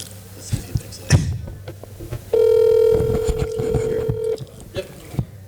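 A FaceTime call rings on a phone, producing a steady electronic tone that holds for about two seconds, loud and close, with shuffling noises and a brief voice before and after.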